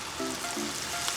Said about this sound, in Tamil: எண்ணெய் காஞ்சதுக்கப்புறமா நம்ம வச்சுருக்க லாலிபாப்பை இதில் சேர்த்துடலாம்.